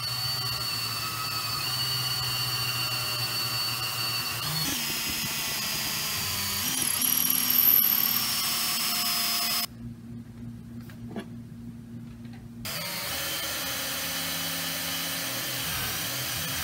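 A power drill bores a handle hole into a wooden mace ball, whining steadily with pitch shifts as the bit loads and eases, cutting out briefly near the middle before resuming.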